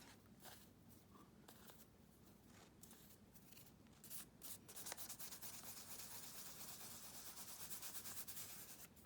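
Soft, close scratchy rubbing, working something off a Bible journal page by hand, steady at first, then growing denser and slightly louder in the second half, with no voices.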